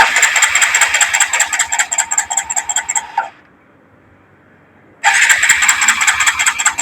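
A TVS Sport BS6 motorcycle starter motor grinds in a steady, slow rhythmic cranking with no fuel reaching the engine, pauses briefly into near silence, then resumes cranking, loud and close without catching.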